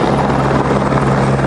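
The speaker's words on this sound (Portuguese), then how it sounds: "Um helicóptero da PM ajudou nas buscas." A military police helicopter flies during a search operation in a wooded area, its rotor and engine a loud, steady, close roar that fills the whole moment with no voices.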